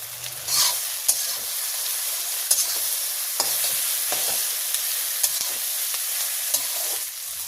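Fish and chillies fry in a pan while village-style curry cooking goes on, with a continuous hissing sizzle broken by regular light clicks and scrapes of a stirring spoon, close and fairly loud.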